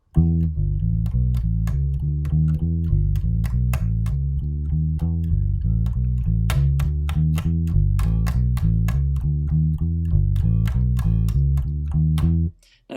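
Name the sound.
bass guitar playing looped one-bar chorus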